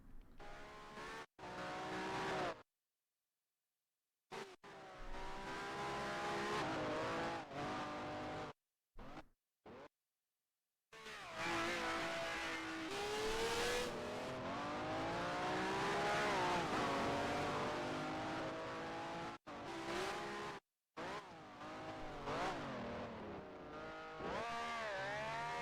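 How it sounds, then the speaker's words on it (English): Ferrari race car engine in a sim racing game, revving loud and up close with harmonic pitch sweeps through gear changes, broken by several abrupt silent gaps. "I can hear a Ferrari."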